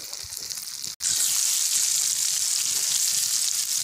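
Raw plantain slices fry in hot oil with a steady, loud, bright sizzle that cuts out for an instant and then resumes at full strength, with no voices.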